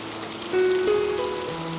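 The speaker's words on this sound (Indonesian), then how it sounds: "Hujan turun menyungkup bumi, mengurung manusia-manusia dalam lindungan rumahnya yang hangat." Steady rain falls on a surface, a soft continuous patter with a faint tonal hum rising briefly in the middle.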